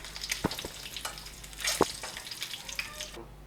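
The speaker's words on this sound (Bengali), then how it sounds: "এই তেলের মধ্যে আমি এক এক করে তেজপাতা, কয়েকটা ছোট এলাচ আর দারচিনি ফোড়ন দিয়ে নিলাম।" Bay leaves, small cardamom pods and cinnamon crackling in hot oil for an egg korma curry, a light steady sizzle with a few sharp pops and spoon clinks.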